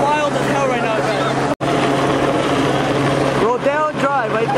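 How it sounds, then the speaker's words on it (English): A police helicopter's rotor drone fills the scene steadily overhead at a Beverly Hills car meet, mixed with street noise and bursts of shouting voices, with a brief dropout midway. "We got the helicopter on top."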